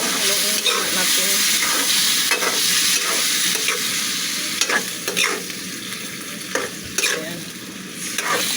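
Caldereta being stirred as it fries in a pan, a steady close sizzle with scraping strokes of the spoon against the pan and a few sharper clinks toward the end.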